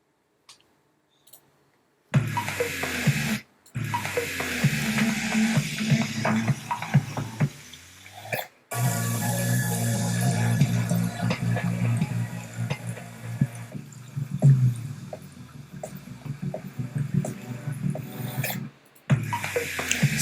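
Fizzing Pepsi poured and bubbling in a soft drink commercial, with clicks, trickling pours and crackling carbonation running steadily up close and alone, broken by a few short silences.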